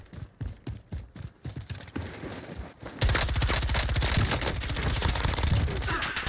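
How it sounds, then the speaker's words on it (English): Video game gunfire: scattered single shots and short bursts at first, then a dense, loud sustained fusillade of rapid automatic fire for the final few seconds. "I'm getting shot at."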